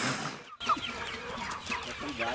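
Free-range chickens on a farm cluck steadily and close by, with short clucks and calls overlapping throughout after a brief pause near the start.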